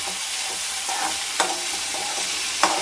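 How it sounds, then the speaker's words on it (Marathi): Thin round slices of bitter gourd, coated with turmeric and salt, sauté in a pan with a constant sizzle, broken by occasional scraping stirs and two sharper clicks of the spatula, close by and with no voices. "तर बघा त्यात दोन एक एखादा मिनिटभर त्यात परतून घ्यायचं आहे आपल्याला"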